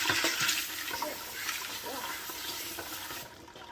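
Water splashes and rushes over tumbled wild horse picture jasper rocks during rinsing, a steady close wash of running water with no speech, easing off near the end.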